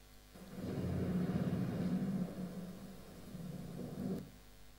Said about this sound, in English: And now we have the thunder.